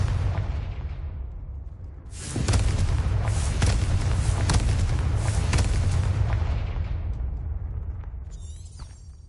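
A Confringo spell explosion in the video game Hogwarts Legacy, a loud booming blast bursting in after about two seconds and rumbling on with crackling fire for several seconds before fading, alone without speech.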